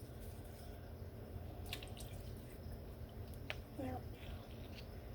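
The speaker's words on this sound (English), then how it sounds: "Nice soapy water, cleaning this nice and good." Water dripping and sloshing in a sink while a container is washed in soapy water, soft splashes and drips over a steady low background, close by and fairly quiet.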